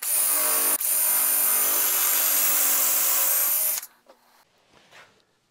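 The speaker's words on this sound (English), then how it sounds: "you're going to drill into one piece of work from this side" A power drill whines loudly and steadily for several seconds, drilling into a workpiece through a Lamello Invis joiner jig, then stops, followed by a few faint clunks and handling noises.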